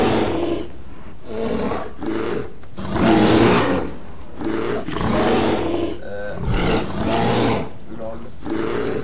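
A bear growls in Assassin's Creed 3, a close, rough roar that comes in several swelling bursts over about nine seconds with short pauses between them.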